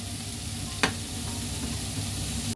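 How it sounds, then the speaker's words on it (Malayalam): A beef mixture in oil is stirred in a pan for a beef cutlet filling, a steady sizzle with one sharp clack of the spoon near the start and another scrape at the end. "എന്നിട്ടൊന്ന് നമുക്ക് നന്നായിട്ടൊന്നും കൂടെ മിക്സ് ചെയ്ത് കൊടുക്കാം"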